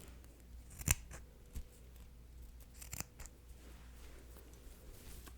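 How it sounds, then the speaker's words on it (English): A few quiet snips of scissors trim wedding veil fabric to size in a hushed, close setting, with one crisp cut standing out and softer snips and rustling following. "I'm just going to cut the material just a little bit so that it's trimmed to your size."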